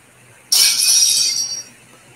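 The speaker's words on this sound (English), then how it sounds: "So that sound is actually a plate smashing." A plate smashes in one sudden, bright crash that rings and scatters for about a second before fading, heard alone against quiet.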